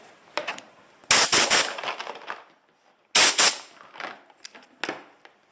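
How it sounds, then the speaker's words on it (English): A Harbor Freight air tool from a 20-piece kit runs on a 1-gallon Campbell Hausfeld compressor, giving two loud, close bursts of sharp pneumatic hissing and rattling, with smaller taps and clicks in between. "it's a pretty nice little air gun just for, around the home, do it yourself type stuff"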